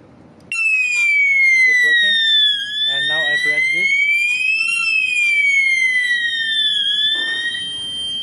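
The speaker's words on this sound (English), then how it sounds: "Now you will see that when I press this MCP," Conventional horn strobe fire alarm wired to an addressable I/O control module, triggered from a manual call point, sounds a loud sweeping electronic tone that rises and falls steadily for several seconds, with brief indistinct talk in the background.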